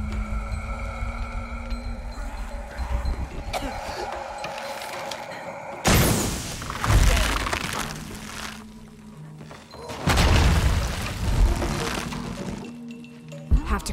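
Explosions in the video game Shadow of the Tomb Raider, two loud, sudden blasts with crackling debris and rumble, each fading out over several seconds amid ambient game sound.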